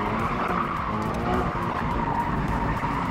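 Car tires skid and squeal loudly during a smoky burnout, a continuous close screech layered over engine roar that holds steady throughout.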